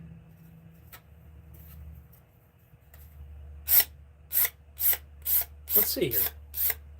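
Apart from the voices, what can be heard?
razor blade scraping a bevel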